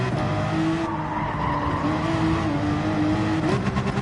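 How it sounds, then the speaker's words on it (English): A car crashing with skidding, squealing tires in the racing game Gran Turismo 7 at Spa, a steady loud engine and tire roar running throughout with no speech. "And then comes the crash."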